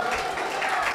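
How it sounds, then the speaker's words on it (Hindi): A church congregation applauding, a steady wash of many hands clapping at once throughout the short moment. "जोर से तालियां बजाइए पिता परमेश्वर के लिए, पवित्र आत्मा के लिए, यीशु मसीह के लिए।"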